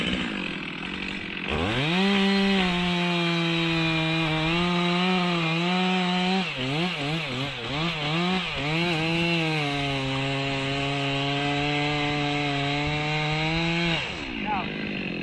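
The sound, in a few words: chainsaw cutting down through a log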